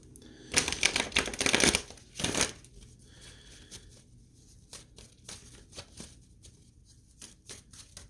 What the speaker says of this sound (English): Let me do a little shuffle.